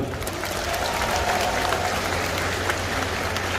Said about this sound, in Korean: 우리 합창단들에게 그리고 내빈 여러분께 다시 한번 큰 박수 부탁드립니다